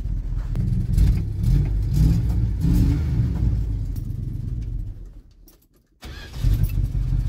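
1978 Dodge Adventurer truck engine running after being primed, a close, loud, rough rumbling idle that fades, drops out briefly, then rumbles back up.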